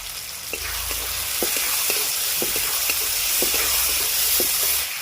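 Chopped tomato and a spoonful of salt frying in a pan for a rice-and-chicken dish, with a steady close sizzle and repeated soft stirring scrapes throughout.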